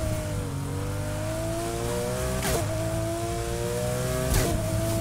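A turbocharged car in the racing game Need for Speed Heat drones steadily at cruising speed. Its engine pitch rises gradually, with brief whooshing bursts like turbo or shift noises at two points, and there are no voices.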